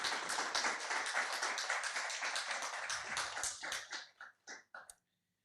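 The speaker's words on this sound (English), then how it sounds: "give a big round of applause to all of you for being here" A small conference audience claps steadily and evenly for about four seconds, then the applause thins into a few scattered final claps before falling silent.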